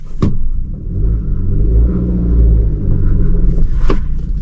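A car engine idles and strains on an uphill slope during clutch control practice, a steady close low rumble with slight rises in revs throughout, and two brief sharp knocks near the start and end.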